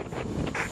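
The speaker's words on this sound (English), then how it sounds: "Oh, there goes the wind again, flapping." Strong wind gusts buffet the microphone outdoors on a windy day while flying a kite, a loud roaring rush with surging bursts.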